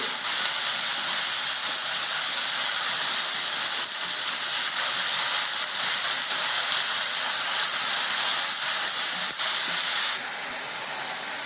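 Chopped banana flower tipped into hot oil tempering with browned garlic gives a loud, continuous steamy hiss that holds steady for about ten seconds, then drops a little.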